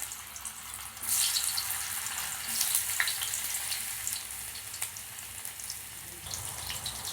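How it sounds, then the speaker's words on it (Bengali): Tofu frying in mustard oil in a hot wok gives a steady, moderately loud sizzling hiss that carries on without pause, with a few brief spikes and no voices. "এগুলো লাল লাল করে আমি ভেজে নেব"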